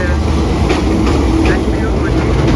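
Pakistan Express train pulling into Wazirabad Junction, a loud continuous rumble of rolling stock with a faint clatter, heard up close.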